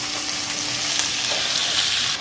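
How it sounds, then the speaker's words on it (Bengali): Chicken gizzards fry with onions in a pan, giving a dense, even sizzle that carries steadily throughout, close and fairly loud, with no voices. "এটাকে এর সাথে আমি ভালো করে একটু ভেজে নেব।"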